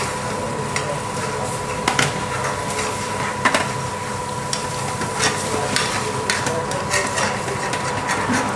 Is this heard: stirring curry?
yes